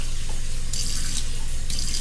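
Water runs steadily from a tap into a container of drywall mud mix, a continuous close rushing and splashing flow that fills the whole moment without any talk.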